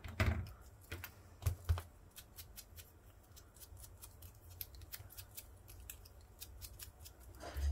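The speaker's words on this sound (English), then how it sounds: "Let's cut it a little bit closer." Scissors snipping paper at a crafting table with Sizzix Eileen Hull dies, a few sharp close cuts at the start and end with scattered faint clicks and rustles between, quiet and without talk.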